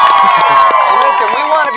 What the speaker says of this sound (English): let's give the gentleman a round of applause here